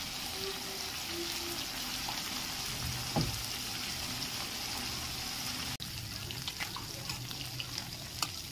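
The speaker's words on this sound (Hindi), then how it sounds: "प्रॉन को मैं फ्राई कर लूंगी।" Prawns frying in hot oil in a pan for a Bengali prawn and bottle gourd dish, with a steady broadband sizzle throughout and faint clinks and a brief scrape partway through.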